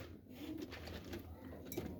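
Pigeons in a loft give low, soft coos in a steady murmur under faint background hiss.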